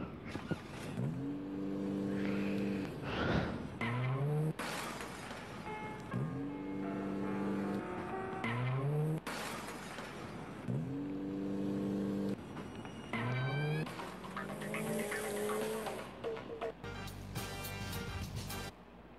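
A car in the Granny horror video game, its engine revving and surging in repeated bursts as it accelerates while being chased, loud and close with no talk.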